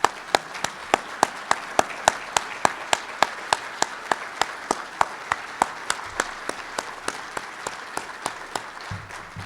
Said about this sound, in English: I'd like to thank them with a round of applause